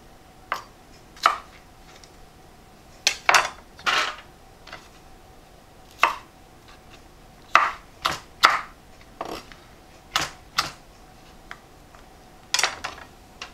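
A knife chopping garden-grown peppers on a cutting board: sharp, irregular thunks come close and clear, sometimes in quick pairs or triplets, separated by short pauses, with no talk.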